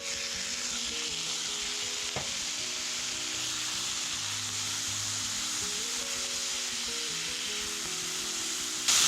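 Minced bottled garlic, five cloves' worth, frying in a pan for canned spaghetti sauce, giving a steady close sizzle with occasional stirring scrapes and one brief knock, no talking.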